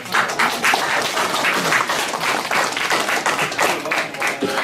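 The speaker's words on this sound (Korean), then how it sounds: "다시 한번 박수 부탁드립니다" Audience applause at a debate forum with a former unification minister, steady, dense clapping from a room of people throughout, with faint voices underneath.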